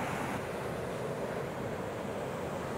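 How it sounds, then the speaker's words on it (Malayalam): Sea waves break on an eroding shore in a constant, broad wash of surf mixed with wind buffeting the microphone, fairly quiet and even, with no talking. "അത്യാവശ്യം നല്ല രീതിയിൽ തന്നെ തിരമാലകളുണ്ട്"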